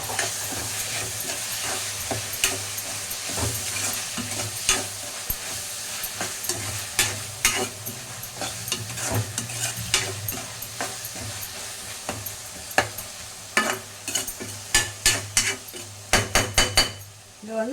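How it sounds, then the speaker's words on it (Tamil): Onions and tomatoes sautéing in a pan for gravy, a continuous low sizzle under frequent metal spoon scrapes and clinks against the pan, growing into sharp rapid knocks near the end; nobody speaks. "வெங்காயம் தக்காளி நல்லா வதங்கணும்."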